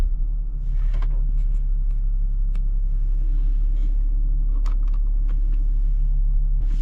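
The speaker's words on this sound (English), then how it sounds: "let's drive this Mercedes Benz E-Class full throttle" A 2008 Mercedes-Benz E320 CDI with a 224 hp V6 diesel and 7G-Tronic automatic, heard from inside while driving a windy road: a steady low engine and road rumble throughout, with a few faint clicks and knocks.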